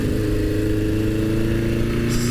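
Steady, close idle of a 1977 Honda CB550 motorcycle engine, an even low throbbing hum with no revving, running continuously throughout.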